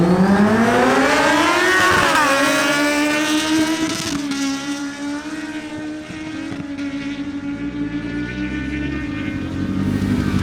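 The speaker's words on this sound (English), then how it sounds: "Now, we have David Zuniga on his Kawasaki Z1000 going up against Martin Correa on his Kawasaki Z1000SX." Kawasaki Z1000 and Z1000SX motorcycles launch in a drag race, with a loud, close engine scream that climbs in pitch through the gears and then holds a high, strained drone.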